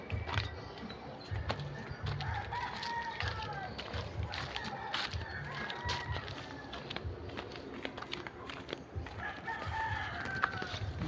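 A rooster crows a couple of times at a distance, amid faint clucking, outdoor background noise and scattered voices.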